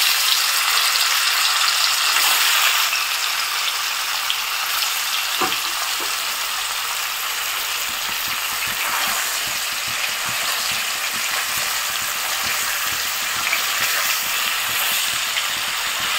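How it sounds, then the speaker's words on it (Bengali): Paneer pieces frying in hot mustard oil in a kadai, a steady loud sizzle and crackle running continuously throughout with a few brief stirring clicks, no talking. "তেল গরম হয়ে এসেছে, এখন পনিরের টুকরোগুলো ভেজে নেব।"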